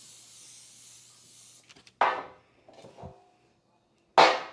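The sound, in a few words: butter-flavored non-stick cooking spray being sprayed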